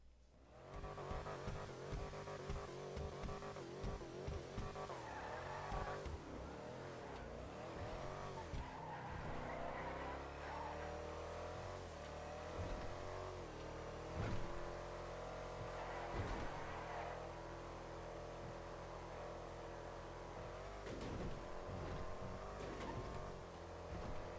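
Racing a legendary Motorsport SUV in GTA Online, a game car engine revs and shifts through gears with repeated loud tire squeals and skids, continuous and close throughout.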